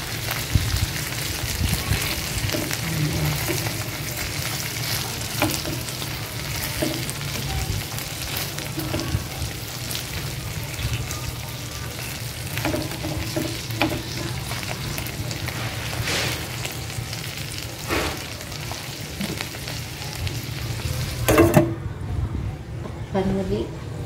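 Buttered shrimp frying in a pan, a continuous crackling sizzle with occasional clatter as the shrimp are turned, heard close under a person talking, cutting off near the end.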